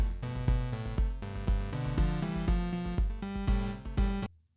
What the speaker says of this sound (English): my game's music sounds like this.